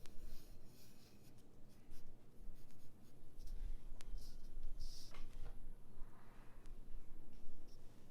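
A pencil draws a circle for a figure's head on paper, a close continuous scratchy rubbing of graphite against the sheet lasting several seconds with slight pauses, no talk.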